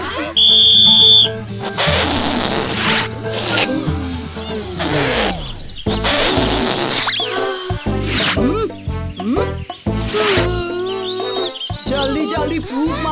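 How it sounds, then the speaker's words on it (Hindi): A cartoon whistle blown to start a balloon-blowing contest in a Chhota Bheem children's episode: one loud, shrill blast of about a second near the start, then busy music and animated sound effects. "और अगला मुकाबला शुरू होगा सीटी बजते ही। और ये बजी सीटी।"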